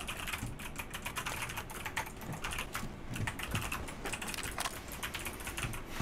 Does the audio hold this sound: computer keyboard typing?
yes